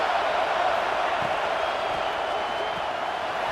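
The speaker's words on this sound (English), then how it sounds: "And here comes the noise. This crowd is trying to inspire this defense to make a big red zone stop." Steady stadium crowd roar from a college football video game, a playoff matchup between Texas A&M and Ohio State, swelling as fans urge the defense toward a red zone stop; a dense, continuous wash of noise throughout.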